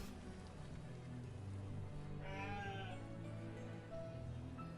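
Sheep in the farming video game Banished give a short, wavering bleat midway through, standing out over a steady game music bed.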